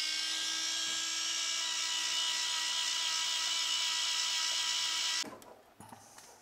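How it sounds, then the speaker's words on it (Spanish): A small rotary jeweler's tool whines steadily at high pitch while grinding excess solder off a mammoth ivory ring, then stops abruptly, leaving faint handling clicks and quiet. "Ahora voy a limpiar el exceso de soldadura."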